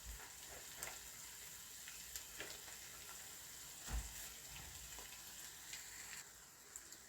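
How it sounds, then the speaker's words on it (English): Spaghetti sizzling and frying in a pan, a soft steady crackle with scattered pops and a faint stir, fairly quiet and close with no voices. "now I'm adding my spaghetti"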